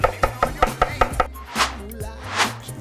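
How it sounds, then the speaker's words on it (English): Knife chopping blanched spinach on a cutting board in a kitchen, six crisp, evenly spaced thuds close by, followed by softer scraping sounds. "I blanched some spinach, so I'm just chopping it a little bit further."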